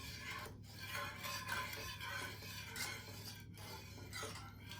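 Spoon stirring a thickening shrimp bisque soup in a pot, a close, quiet series of scraping, rasping strokes in an uneven rhythm over a low hum, with no talk.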